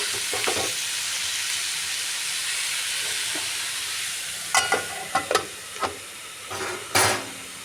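Mezhukkupuratti vegetables fry in a pan with a constant hissing sizzle, broken by a few sharp clinks and scrapes as they are stirred, heard up close.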